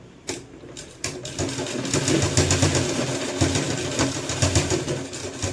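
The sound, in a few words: sewing machine stitching a sleeveless kurti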